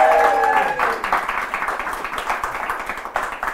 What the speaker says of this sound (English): Give a big round of applause to Finnian.